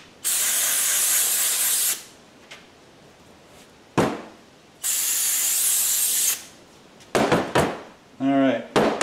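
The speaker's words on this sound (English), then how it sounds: "I just hit them with a little brake clean" Brake cleaner sprayed onto rear brake parts of a 2020 Chevrolet Traverse, two long loud hissing bursts with a short clank between, followed by a brief knock and someone talking.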